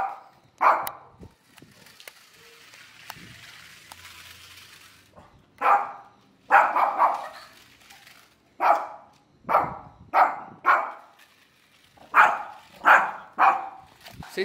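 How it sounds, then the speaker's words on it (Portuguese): A small female dog barks in a home, reacting to a remote control toy car: a series of sharp, fairly close barks, sparse at first and then coming in quick repeated bursts with a few short whimpers between, no talk over them. "ela tá até atrapalhando minha gravação agora, latindo"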